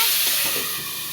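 Water hits a hot pan of sizzling fish curry, setting off a loud, close burst of steamy hissing and sizzle that fades slightly over about a second, with no talking.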